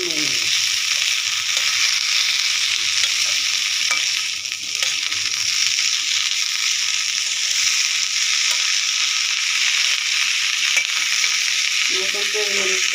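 Coriander leaves frying in oil in a pan for a taki fish bharta, a steady loud sizzle with occasional scraping stirs and a clatter near the end.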